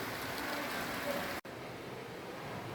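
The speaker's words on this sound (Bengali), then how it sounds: "বাহিরে অনেক ঝড় বৃষ্টি হইতেছে।" Heavy storm rain falls outside, a steady broadband hiss that fills the scene, briefly cutting out for a moment midway before resuming at the same even level.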